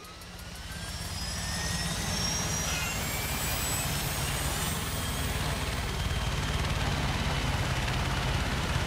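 Aircraft engine in the video game Far Cry 6 roars steadily as the player flies, a continuous loud drone that swells over the first two seconds and then holds.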